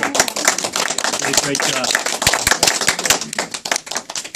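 An audience applauds a committee at a community gathering: dense, lively clapping that carries steadily throughout, with people talking over it.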